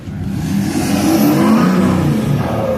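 Ford Super Duty pickup truck with an aftermarket exhaust revving at a truck show, a loud, close, steady engine roar that swells and holds for about three seconds with no talk over it.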